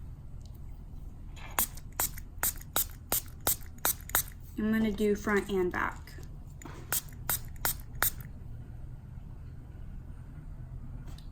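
Perfume is spritzed onto a printed color temporary tattoo in a quick run of sharp, close sprays, about a dozen short bursts, and a voice speaks briefly between them.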